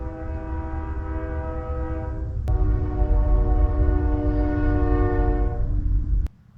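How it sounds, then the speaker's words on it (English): A train horn blares in long sustained harmonic blasts over the heavy low rumble of a passing train, loud and close, continuing for about six seconds before cutting off abruptly. "And there's a train coming,"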